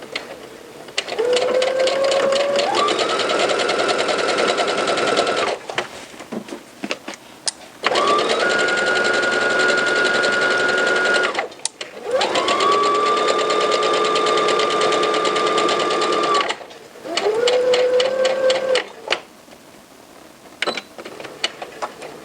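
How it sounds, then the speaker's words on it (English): A sewing machine runs a straight stitch down the side seams of cropped pants, whirring in four close bursts separated by short pauses. "let's go ahead and sew in a straight stitch all the way down"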